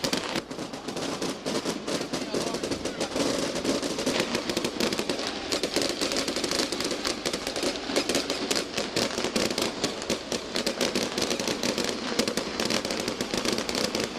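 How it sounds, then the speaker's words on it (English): Fireworks explode continuously inside Windsor Park stadium before the 2001 Irish Cup Final, a dense rapid crackle of bangs and pops over crowd noise, loud and unbroken throughout. "We can't hear Jackie over the fireworks at Windsor Park"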